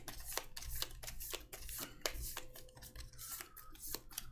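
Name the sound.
shuffling movement cards for a board game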